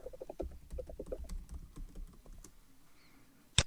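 Rapid, light keystrokes clatter on a nearby computer keyboard as a username and password are entered, then a pause and one final click.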